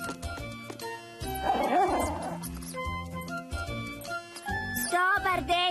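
A dog yips and barks several times amid cartoonish music and chiming sounds, with a voice speaking near the end.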